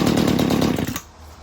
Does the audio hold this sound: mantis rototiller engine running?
yes